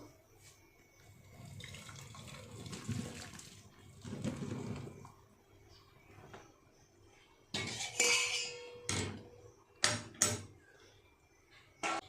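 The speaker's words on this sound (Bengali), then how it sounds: "দেখুন সিদ্ধ হয়ে গেছে। খুব বেশি সিদ্ধ করিনি, তাহলে আবার একদম গলে যাবে। জলটাকে ঝরিয়ে নেব।" Water poured off boiled taro stolons in a kitchen pot: splashing and pouring come in bursts, followed by sharp clanks of the pot and utensils, moderately close, with no talk.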